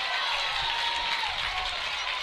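A crowd at an Alabama college softball game against FSU fills the stands with a continuous, fairly loud wash of cheering and clapping.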